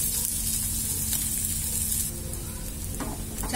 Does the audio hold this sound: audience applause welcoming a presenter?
no